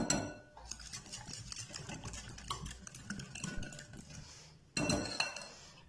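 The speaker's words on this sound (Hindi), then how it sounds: "और अब हम इन सारी चीज़ों को अच्छी तरह मिक्स करेंगे।" Tandoori chicken marinade being stirred together in a bowl, with close, steady scraping and clinking of a utensil against the dish, then a louder burst of clattering toward the end.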